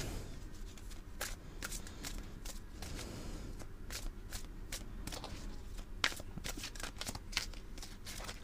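Tarot cards are shuffled and drawn in a steady stream of papery riffles and sharp flicks, close and fairly quiet, with no talking over them.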